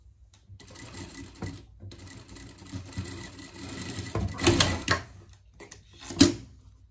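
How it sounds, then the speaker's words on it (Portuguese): A sewing machine stitches a seam while small pleats are made in a pet dress, running in short, close bursts of whirring with brief pauses and a couple of louder pushes. "Vamos passar aqui uma costura"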